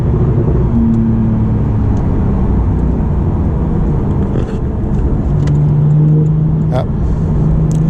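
A tuned turbocharged Porsche 911 Carrera T is heard from inside while driving, with a continuous loud engine roar that climbs in pitch under acceleration, plus faint whirs and ticks.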